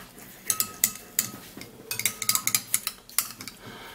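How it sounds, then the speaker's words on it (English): A mixture being stirred in a bowl with a utensil, a close series of quick clinking taps and scrapes in uneven bursts, without talking. "then you would have to stir this"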